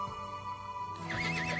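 Horse neighing in the Westland Survival game, a single whinny rising and wavering in the second half over a steady background hum, no talk.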